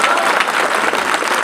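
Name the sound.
audience applause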